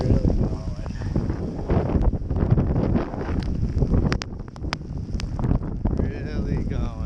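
Strong blizzard wind buffets the microphone at close range in a continuous loud roar and rumble, with gusts rising and falling throughout and a few brief high clicks near the end.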